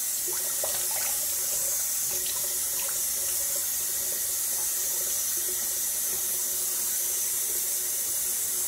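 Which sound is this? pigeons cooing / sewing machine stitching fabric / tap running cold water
tap running cold water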